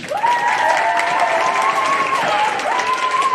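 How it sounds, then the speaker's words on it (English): Parents and students at an elementary school assembly applaud the kindergarten award winners, with continuous loud clapping and light cheering across the room and a sustained tonal hum running underneath. "big round of applause for all the kindergarten winners"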